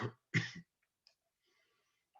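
A few short coughs and throat-clearing sounds from a person recovering from a cough, quiet and close, with small clicks and near silence between them.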